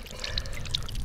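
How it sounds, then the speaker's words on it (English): Water poured over a green toad outdoors, a short steady trickling splash lasting about a second, close and moderately loud. "We're gonna water him just like a little green garden"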